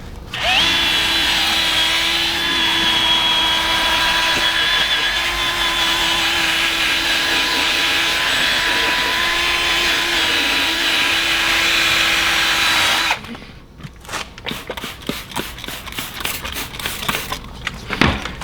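A power sander with a 3200 grit pad works over a car headlight in a loud, continuous whir for about thirteen seconds, then stops, leaving scattered light taps and handling noises.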